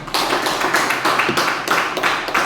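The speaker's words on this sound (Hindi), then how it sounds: "मैं चाहूंगा आयुष सर के सम्मान के लिए एक जोरदार तालियां" An audience applauds a presenter at a company venue presentation, a dense, loud, continuous round of many hands clapping close by with no talking.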